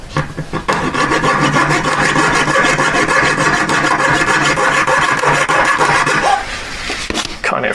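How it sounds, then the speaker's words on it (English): A jeweler's saw blade rasps steadily through metal while a pear shape is formed by hand, dense rapid strokes close and loud that break off near the end. "Put the saw blade through."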